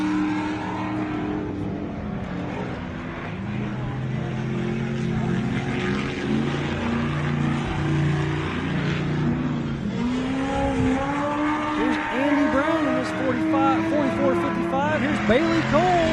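Off-road race car engine held on the throttle during a rough-terrain race, a steady loud drone with rising revs and pitch swings, heard under continuous race commentary.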